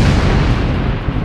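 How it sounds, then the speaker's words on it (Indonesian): A single heavy boom lands as the loud impact of a punch in a dramatized story scene, with a dense low-end blast that holds through the whole short moment. "Suara dentuman tepat di hadapannya terdengar jelas"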